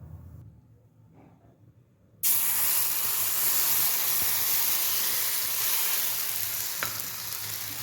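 Dosa batter hits a hot, oiled tawa and bursts into a loud, steady sizzle after a quieter stretch, the dense frying hiss continuing close and unbroken with no talking.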